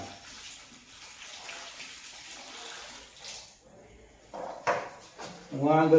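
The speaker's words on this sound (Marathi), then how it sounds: "ही जरा धुवून घेतो बा" Peanuts are washed in water, giving soft sloshing and swishing that grows louder toward the end, with a few bursts of splashing and a brief voice in the background.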